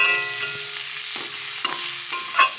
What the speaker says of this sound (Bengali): তো ধনে পাতাটা দিয়ে একটু নাড়াচাড়া করবো